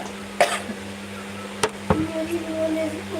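Several short coughs at irregular intervals, close by, over a steady low electrical hum.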